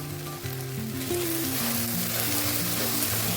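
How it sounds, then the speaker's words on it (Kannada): Okra frying in a pan with turmeric, giving a steady, dense sizzle that stays close and constant throughout, with no voices over it. "ಚೆನ್ನಾಗಿ ಫ್ರೈ ಮಾಡ್ಕೊಳ್ಳಿ"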